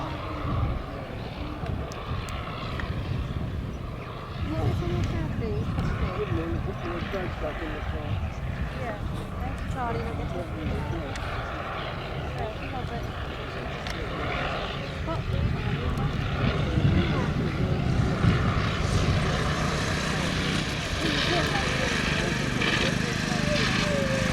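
A Hucks starter cranks and starts the engine of a 1918 Avro 504K biplane at the Shuttleworth military pageant. A steady, loud mechanical droning builds over the clip, with a voice talking over it.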